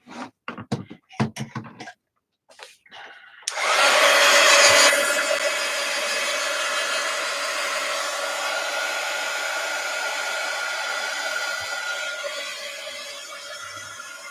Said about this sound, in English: let me hit that with the heat gun because it's certainly not